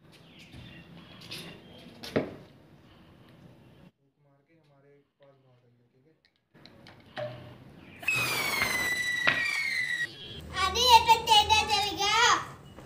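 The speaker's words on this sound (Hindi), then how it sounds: "ये इतनी आवाजें क्यों आ रही है यार, ये रॉकेट की इतनी, इतने तो कोई चल भी नहीं रहे।" Diwali fireworks and rockets go off with sharp bangs, then a rising whistle and crackling bursts toward the end. Children and adults talk and call out between the blasts.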